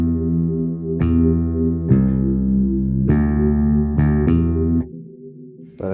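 Synth bass notes in an afrobeat production made in FL Studio, a handful of sustained bright-edged tones changing pitch every second or so, alone with no voices, ending on a softer low note.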